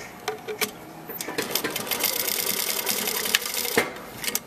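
A sewing machine stitches a rib knit band onto a V-neck, its needle running in a fairly steady, close whir with a few brief pauses and clicks at the start and end.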